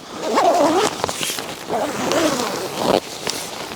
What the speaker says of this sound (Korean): 플랩이 달려있는 부분을 손으로 잘 올려주시면서 사이로 지퍼를 넣어줍니다